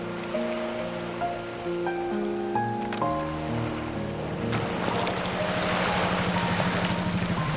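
A mail delivery boat crosses the water near Ieejakdo island, its engine droning and thrumming steadily over wind and wash, with some tonal sounds early that fade as the motor noise grows.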